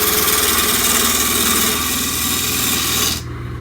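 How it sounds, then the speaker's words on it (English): A wood lathe spinning a walnut blank while a roughing gouge cuts it round, producing a loud, steady motor hum with a rapid rhythmic chattering scrape that cuts off abruptly near the end. "now I'm just going to start using the rough and gouge to start getting this thing round."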